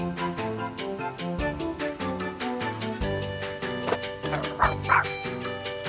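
Pac-Buddy, a cartoon dog in the Pac-Man World 2 Re-Pac video game, barks in a steady run of short woofs over bouncy game music, fairly close and clear, with no talking.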